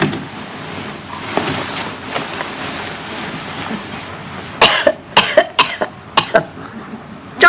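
A person coughs in a quick series of sharp, hacking bursts, loud and near, after a quieter stretch of muffled background noise.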